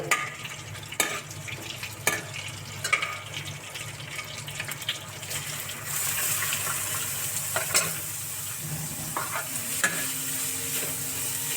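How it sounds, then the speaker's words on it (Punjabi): Chopped onions tipped into roasted cumin sizzle and fry in a pan for an Indian-style arbi curry, a steady crackling hiss with sharp clatters of a spoon stirring, the frying growing louder and brighter partway through; no talking. "ਜੀਰਾ ਆਪਣਾ ਭੁੱਜ ਕੇ ਹੁਣ ਤਿਆਰ ਹੋ ਚੁੱਕਿਆ ਜੀ ਤੇ ਹੁਣ ਆਪਾਂ ਵਿੱਚ ਪਾ ਦਿੰਨੇ ਆ ਜੀ ਪਿਆਜ਼"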